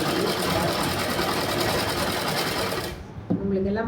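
A sewing machine stitches along the edge of blouse fabric, a loud fast steady clatter that stops near the end, followed by a short mechanical clunk.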